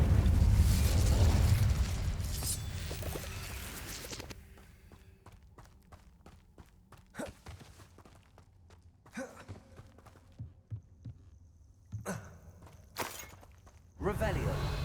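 An Incendio fire spell cast in Hogwarts Legacy on PS5 opens with a loud, roaring burst that fades after a few seconds. Scattered thuds, pops and footstep-like taps follow over quieter game ambience, and a fresh loud surge comes near the end.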